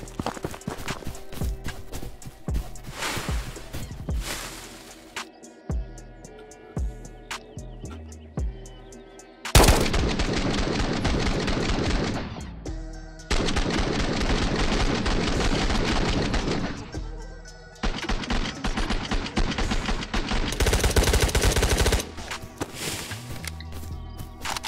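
Gunfire in the Ghosts of Tabor video game: sustained loud bursts of rapid shooting fill long stretches, with sharp individual shots and rattling volleys starting and stopping abruptly, all close and dominant.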